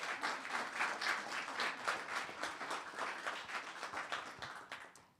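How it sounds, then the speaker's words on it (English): A round of applause at a town council meeting, as a group of attendees claps steadily for certificate recipients, moderately close, fading out at the end. "can I get a round of applause?"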